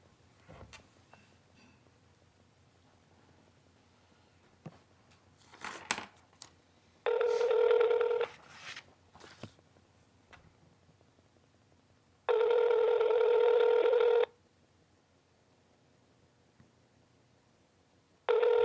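A telephone on a call rings in two long, loud bursts, each lasting about two seconds, with a pause between them and the start of a third burst at the end. Brief clicks and handling noises come before the rings.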